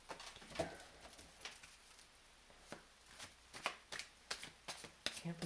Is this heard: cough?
no